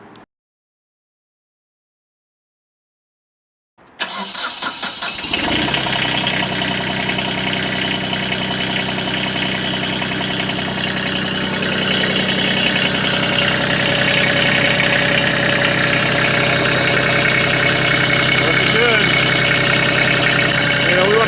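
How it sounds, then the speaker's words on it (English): After about four seconds of silence, a tractor engine with an overheating problem fires up and settles into a loud, steady, close idle that runs without a break. "we're just now going to fire it up and let her come up to temperature"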